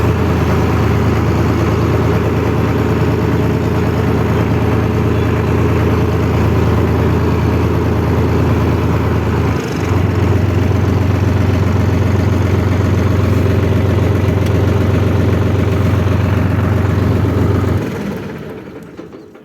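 A tractor engine idles steadily up close with a deep, constant drone, then cuts off near the end.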